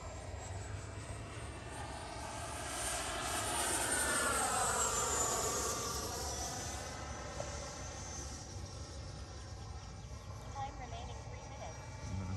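A Freewing Avanti S V2 sport jet with an 80mm electric ducted fan makes a top-speed pass, its high whine rising as it approaches, sweeping down in pitch as it passes, then fading away.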